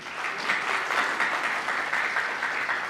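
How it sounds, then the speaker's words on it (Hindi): An audience at a book launch claps loudly and steadily for three seconds, a dense, even wash of applause with no voices over it. "मैं सबसे पहले आप लोगों के लिए और आप ही को कहूंगी कि जोरदार तालियां हो जाए"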